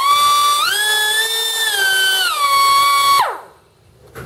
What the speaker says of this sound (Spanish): Voy a emparejar la superficie de este pedazo de metal utilizando el esmeril neumático Stanley